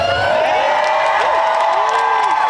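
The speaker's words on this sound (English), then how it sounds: "Sounds like a pretty damn good crowd, doesn't it?" A convention crowd at a Scream 7 panel cheers and whoops loudly, a dense sustained roar of voices with scattered shouts rising above it.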